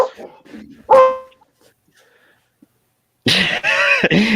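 A single sharp dog bark rings out close by, followed by silence, then a few rough, throaty yelps or barks near the end.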